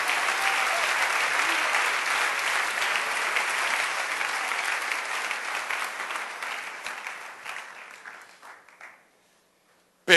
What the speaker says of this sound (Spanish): Dale un aplauso bien fuerte al Rey bendito.